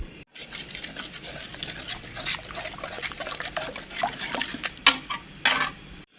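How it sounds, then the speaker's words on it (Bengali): Whisked yogurt being stirred into milk in a pot for homemade curd, soft liquid swishing with clinks and scrapes of a spoon against the vessel, quiet and close, with a few sharper knocks toward the end. "দিয়ে দইটাকে ভালো করে নাড়বো।"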